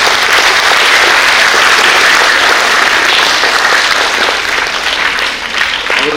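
Loud, dense applause from an audience at a Karnataka government school adoption programme at Mangalagangotri, sustained and steady across the whole stretch with no talk over it.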